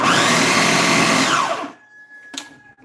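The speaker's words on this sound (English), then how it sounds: "eventually the pressure will go all the way away to where you can just leave the blender on" Kitchen blender pulsing carrot ginger soup, loud and steady motor whir for about a second and a half, then it cuts off, followed by a quiet high whine and a brief clatter.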